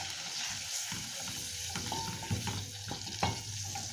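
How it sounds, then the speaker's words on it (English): Onions sweat in a pan with a soft continuous sizzle, while a spoon scrapes and taps against the pan in several short strokes. "Sweat them for 2 seconds."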